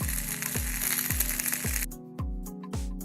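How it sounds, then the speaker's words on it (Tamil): Onions sauté in a pan for a spicy soya chunk gravy, giving a bright sizzle punctuated by regular low thumps of stirring about every half second; the sizzle drops away near the end, leaving the thuds. "வெங்காயம் நல்லா வதங்கிடுச்சு."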